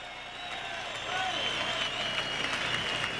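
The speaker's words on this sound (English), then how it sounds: "ladies and gentlemen, a good round of applause for these 2 warriors." Crowd applause at a boxing match for the two fighters, Davey Hilton and Dingaan Thobela, swelling slightly after the first second beneath a steady hall ambience with tonal whistles or cheers overhead.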